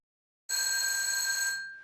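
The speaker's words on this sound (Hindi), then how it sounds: "फोन बजा, हम उठाएंगे।" A telephone bell rings in one sustained burst of a little over a second, bright and clear, then fades out against silence.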